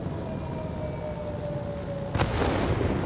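A bomb explodes in the World of Warplanes air combat game during a bombing run on garrisons and military bases, a sudden loud burst cutting over steady engine drone and sustaining a rumbling roar near the end.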